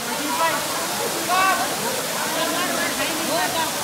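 Steady roar of the Kalmandvi waterfall at Jawhar in summer, a broad continuous rush of falling water, with voices audible now and then over it.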